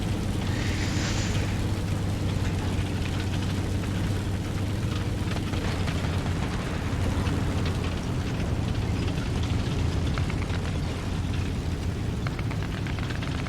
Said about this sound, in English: I try and get a drop shot on him.